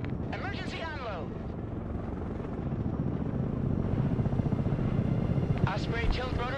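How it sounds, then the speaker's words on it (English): Osprey tiltrotor aircraft flying in the strategy game Broken Arrow, a steady low rotor drone that swells slightly louder over time, with radio-style voices talking over it at the start and end. "Osprey tilt rotor aircraft here"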